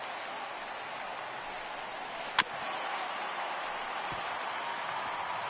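Steady roar of a large baseball stadium crowd of 36,000 in an MLB video game, a broad wash of noise that swells slightly after a sharp crack, sustained and moderately loud.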